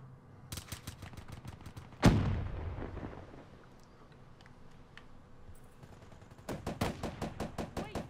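Video game gunfire from Call of Duty Black Ops 3: bursts of rapid automatic shots, one heavy booming blast with a long decaying tail, then quieter scattered clicks before another fast volley starts near the end.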